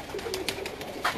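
Breeder pigeons coo close by in a short, soft burst of a few throaty notes, with a louder final coo at the end.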